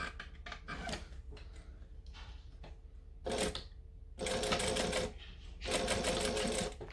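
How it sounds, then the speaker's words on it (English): A sewing machine stitches fabric for a phone caddy in several short, buzzing runs separated by quiet pauses, close and clear with no talking. "then we're going to stitch the bottom section again"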